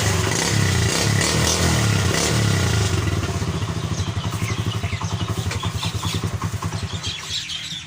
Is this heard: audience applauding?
no